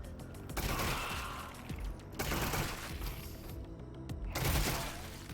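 Pistol fire in Half-Life: Alyx, with the pistol in burst mode, comes as several loud, close bursts of sharp shots separated by short gaps, mixed with mechanical clatter, with no talk.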